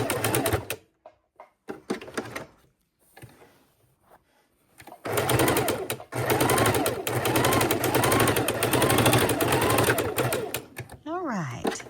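A sewing machine stitches a small fabric sachet in quick bursts, first in short stops and starts, then running steadily and loud before a few brief sliding sounds at the end.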